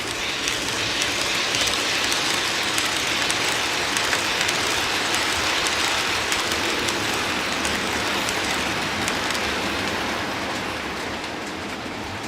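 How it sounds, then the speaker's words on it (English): Model trains rolling in a room, a loud, steady, dense rumble and rattle that fills the space without pause and fades slightly toward the end. "So when the trains are rolling, it's super loud in here"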